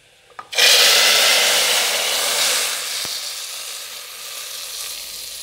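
Seasoning is poured into a pot of cooked beans and hits hot fat with a sudden loud sizzle up close. The hiss stays strong and slowly settles, with a faint scrape partway through.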